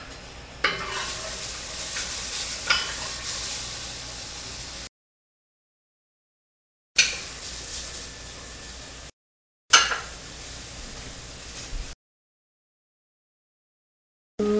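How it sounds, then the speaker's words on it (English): Mushrooms sizzling in a frying pan while being stirred, a steady hiss across separate segments broken by silent gaps, each opening with a sharp clank of utensil on pan. "Let me stir my mushrooms."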